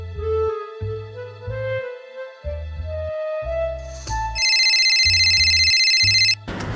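A mobile phone ringtone plays in a home, a repeating melodic tone pattern sounding loud and close, alone without talk, with a brighter high-pitched ringing burst toward the end.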